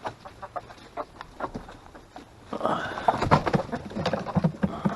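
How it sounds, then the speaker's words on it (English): Several chickens cluck and roosters call nearby, the clucking growing busier and louder partway through. "Got a lot of roosters in here."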